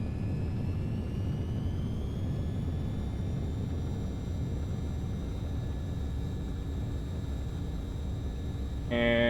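Simulated MD-80 jet engines roar steadily at full reverse thrust after touchdown, a loud continuous rumble with a slowly rising whine, ending with a brief tonal chime.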